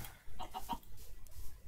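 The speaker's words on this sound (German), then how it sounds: "Das sind mehrere Hühner, das ist ganz gut." Several chickens cluck in the Minecraft video game, in short close bursts early on and then fading into a low ambient game backdrop.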